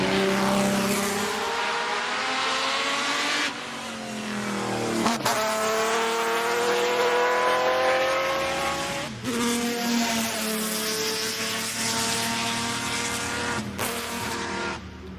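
Race cars roaring past at speed, engines whining with rising and falling harmonics and brief shifts, loud and continuous with no talk.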